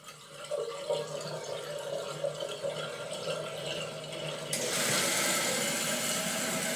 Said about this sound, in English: I'll then pull the lever up and let water go through just enough until the fill valve begins to kick back on.